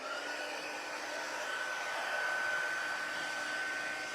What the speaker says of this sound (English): the heat tool, because that blows stuff around